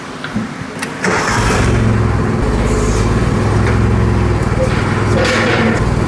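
A Badboy Outlaw riding mower with faulty brakes cranks into life after a second of quieter sound, then its engine runs loud and steady nearby as it is driven onto a weld table.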